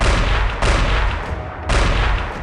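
Rapid gunfire from a high-intensity night shootout between police and terrorists, several loud broadband bursts roaring on one another with heavy low rumble, sustained and close, with no talk.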